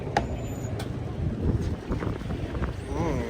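A motorboat with a Honda engine pulls up to a pier at Ko Lan Island, Thailand, its low rumble running steadily under gusty wind noise with faint voices in the background.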